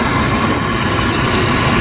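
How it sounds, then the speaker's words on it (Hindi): A helicopter starting up, its loud turbine engine roaring and whining steadily close by and drowning out everything else. "चालू होते हेलीकॉप्टर है"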